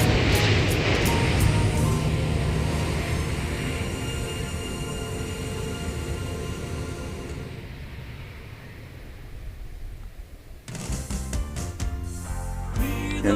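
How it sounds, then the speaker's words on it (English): A China Airlines Airbus A330-300 arriving from Taipei lands at Incheon: a loud jet roar with a steady engine whine fades over several seconds, then other tonal sounds take over. "This is China Airlines, Flight 160 coming in from Taipei, an Airbus 330-300."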